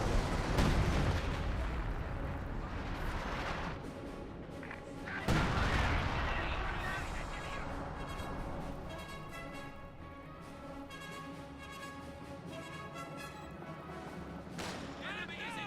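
Cannon and gun blasts from a Company of Heroes 2 battle with a T-34/76 tank and an anti-tank gun firing on conscripts, heavy booms at the start and around five seconds, then a rumbling battlefield din under overlapping talk.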